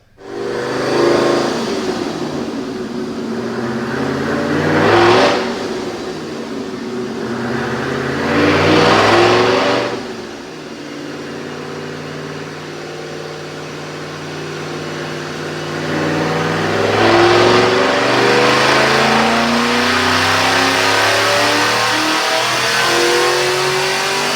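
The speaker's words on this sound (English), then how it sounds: "right now, check out this dyno pull" A supercharged 2005 Mustang 3V 4.6L V8 with cams and headers revs hard on a dyno, climbing through repeated loud pulls with rising whine, easing off between runs.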